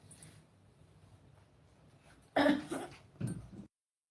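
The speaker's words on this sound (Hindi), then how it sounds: "हिचकी आने लगा और खांसी" A person with hiccups coughs in a few short, loud bursts near the end after a quiet stretch, with a faint sound early on and no words spoken.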